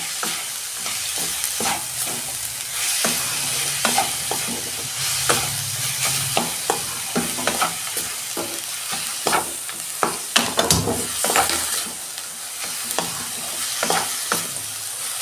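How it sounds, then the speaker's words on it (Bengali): Sweetened coconut filling for Bengali patishapta pitha is stirred and scraped in a pan over a low gas flame, giving a steady run of close scraping strokes over a soft sizzle with no voices. "আমি এটা নারকেলের ছাইটা মাখছি"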